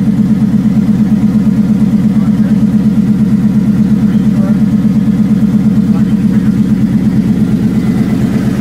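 A car engine idles steadily right after its first start, with a fuel rail pressure reading of 1,000 pounds. The loud, even low rumble runs throughout with a regular pulsing beat and no revving.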